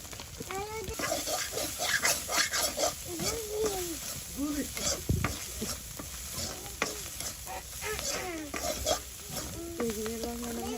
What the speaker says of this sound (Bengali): এখানে ইচা মাছগুলো ভাজা ভাজা হয়ে গেছে